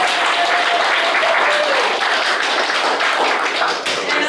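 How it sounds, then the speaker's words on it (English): Guests at an 80th birthday party applauding, a dense, loud burst of many hands clapping that holds steady for several seconds before easing slightly. "Can we please give them a clap?"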